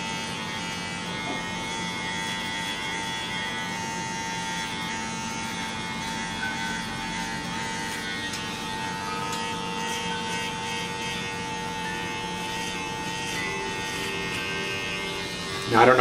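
Electric hair clippers buzzing steadily and close while cutting a man's own hair, a continuous loud drone with slight changes in tone as the blades move through hair.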